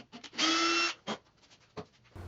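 A power drill bores through a homemade belt tensioner into a CNC table, one short whining burst of the motor up close, followed by scattered clicks and handling knocks.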